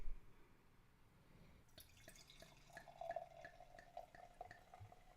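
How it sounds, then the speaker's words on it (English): Beer poured from a bottle into a snifter glass, faint at first, then a trickling, gurgling stream with small glassy drips and bubbling that rises in pitch as it fills, no voices over it. "using a snifter, let's pour this"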